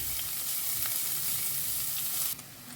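Onion, garlic and ginger fry in a pan, a steady close sizzle with faint stirring, dropping a little quieter near the end.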